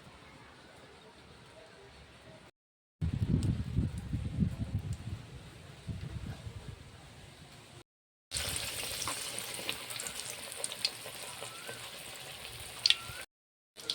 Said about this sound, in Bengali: তেল গরম হয়ে গেছে, এখন বেগুনিগুলো ভেজে নেব।